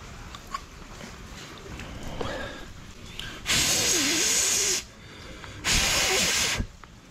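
Water jetting from a drain jetter nozzle while clearing a blocked drain in a backyard, heard as two loud, steady hissing sprays of about a second each, separated by quieter gaps.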